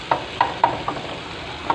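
A Sindhi wooden pestle (tipni) pounds tomatoes in a kitchen, giving five sharp, separate knocks at an uneven pace with quiet gaps between them.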